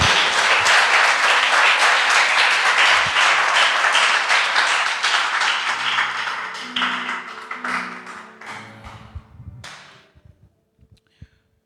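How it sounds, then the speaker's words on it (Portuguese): Congregation clapping together during a church communion service, loud dense applause that thins out and fades into a few scattered claps, with faint voices underneath near the end. "Você pode dar uma salva de palmas ao nosso Deus?"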